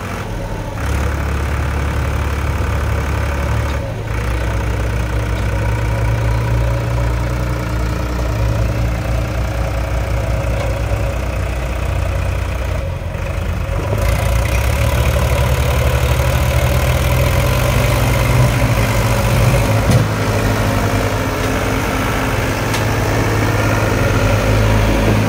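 A Powertrac Euro 47 tractor hauling a fully loaded trolley, stuck on a rough track, runs with a steady low diesel rumble close by, its pitch shifting slightly as the engine works harder midway.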